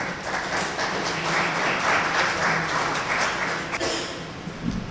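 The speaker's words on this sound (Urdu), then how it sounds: "بہت ساری تالیاں ان کے لیے." An audience at a political education session claps for a professor being welcomed to speak, steady dense applause swelling and then thinning toward the end.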